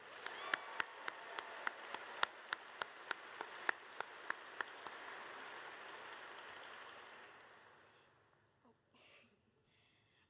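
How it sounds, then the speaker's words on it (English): Audience applause at a military event at Royal Air Force Mildenhall in the UK: a steady wash of many hands clapping, a few sharper nearby claps standing out early, then the applause slowly fades away to near quiet. "Let's give her another round of applause."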